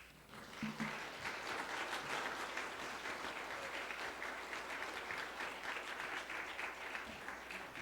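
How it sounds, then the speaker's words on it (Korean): An audience at a church service applauds warmly as a missionary preacher is welcomed, a steady dense clapping that holds at an even level for several seconds without talk. "나오실 때 뜨거운 박수로 환영해 주시기를 바랍니다"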